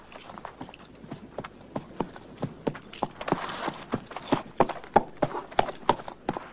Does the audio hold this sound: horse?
yes